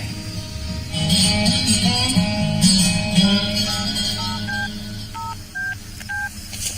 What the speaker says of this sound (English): What are you doing with that phone? Who are you calling?